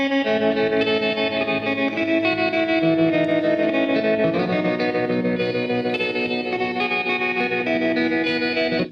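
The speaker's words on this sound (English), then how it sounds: "a lot of tremolo, a lot of chorus effects." An electric guitar plays sustained chords drenched in tremolo and chorus, shimmering and warbling continuously with a wide, wavering tone.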